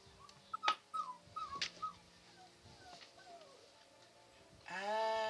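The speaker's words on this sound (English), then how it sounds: "is that him whistling or is that his dog whimpering?" A dog whimpers in a string of thin, rising and falling whines mixed with faint whistle-like tones, fairly quiet and up close, ending in a louder sustained tonal burst.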